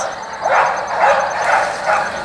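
Several dogs bark in bursts at a boarding kennel's long outdoor runs, the yips and woofs repeating at a steady pace and fairly close, with no talk over them.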